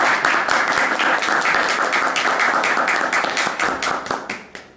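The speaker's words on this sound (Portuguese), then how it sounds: "pra gente aplaudir o homem" Audience applause at a poetry gathering, with sharp, distinct hand claps in a quick, uneven rhythm from a smallish crowd, loud and close before thinning out toward the end.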